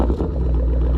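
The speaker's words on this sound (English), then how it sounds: "Love that low throaty growl there" A deep, throaty car engine with an aftermarket exhaust idles loudly and steadily right after starting, with a low rumbling exhaust note.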